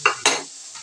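Cumin paste being sautéed in oil in a pan gives two quick, close scraping stirs with a soft sizzle underneath, then fades to quiet.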